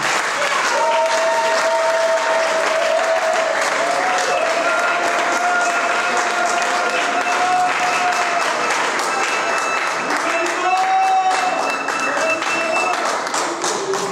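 A church congregation applauds and cheers during a French-language sermon, dense sustained clapping with voices calling out and shouting over it for the whole stretch.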